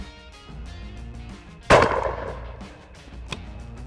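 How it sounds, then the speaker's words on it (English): A shotgun fires one fibre wad cheap clay load from its half-choke bottom barrel: a single loud, sharp blast with a short decaying tail over a steady outdoor background. "I'm gonna put it in the bottom barrel, which is half choke, and shoot it at that left-hand target."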